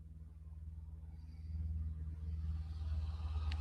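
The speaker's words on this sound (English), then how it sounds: "my window's open, guys, and a big truck just went by, and he was kind of loud" A big truck passes outside an open window, a loud low engine rumble that swells and grows heavier as it goes by, with no talking.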